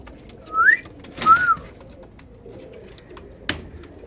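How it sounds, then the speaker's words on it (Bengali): Pigeons in a breeding loft give two close, rising whistle-like coos, followed by a sharp clap or flap and quiet background rustle, with no talk. "অনেক বেটার কবুতর আছে"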